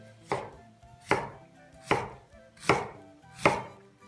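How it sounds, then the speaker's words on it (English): A knife chops through a cabbage held face down on a table for Peruvian sauerkraut, making five evenly spaced crunchy thuds, close and clear, with nothing else heard between strokes. "holding the cabbage face down so it doesn't roll around the table, we're just gonna cut it"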